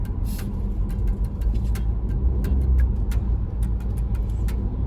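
A snow plow truck turning on a snowy road, a steady low engine rumble heard from inside a car, with a series of sharp ticking clicks over the drone.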